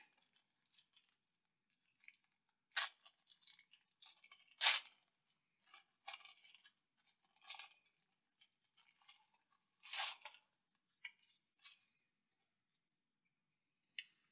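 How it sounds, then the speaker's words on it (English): Three packs of G.I. Joe trading cards torn open by hand: a run of sharp, crinkly foil rips and rustles in irregular bursts with quiet gaps between them, close and fairly soft, with no one speaking. "Three packs of G.I. Joe cards. Let's open them up, see what we got."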